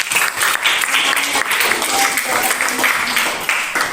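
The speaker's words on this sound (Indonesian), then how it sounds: "Kasih tepuk tangan dulu buat" A class or audience breaks into applause, close and lively clapping in an even, busy texture that carries on steadily, with faint voices mixed into the clatter.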